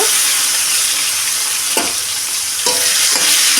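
Tomatoes sizzling loudly in hot oil with black cumin and dried chili, a steady fry with a few stirring scrapes, close and without voices.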